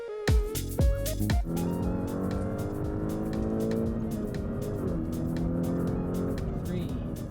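A VW MK6 GTI with a turbo muffler delete drives off, its engine droning loudly from inside the cabin with shifting tones as it accelerates, and a voice talks over it.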